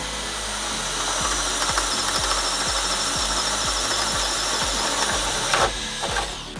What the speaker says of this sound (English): we are going to go now with a 1 inch with the Dewalt.